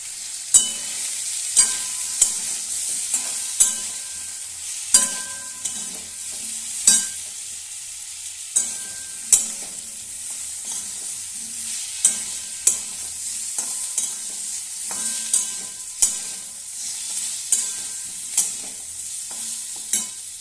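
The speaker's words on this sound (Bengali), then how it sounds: "এবার দিয়ে দেবো কুচিয়ে রাখা বেগুনটা" Chopped eggplant fries in a pan under a continuous sizzle, while a spatula stirs and scrapes it in regular, close taps about every second, with no talking.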